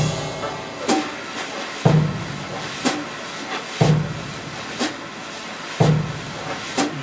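A sustained drum sound at a slow ballad tempo in 4/4: close, swishing strokes with a soft accent landing on each beat, about one per second, repeating evenly throughout.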